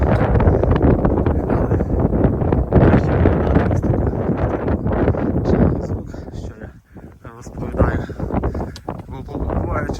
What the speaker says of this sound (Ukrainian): Тут ви теж будете чути ось такий вітер